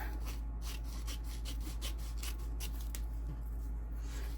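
Scissors trimming green paper pieces for a handmade journal, with a run of soft, close snipping and rubbing strokes over a steady low hum, no talking.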